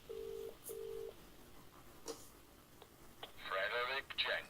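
Telephone dialing tones in the video game Contradiction, two steady beeps followed by a short ringing burst, heard alone over faint background noise.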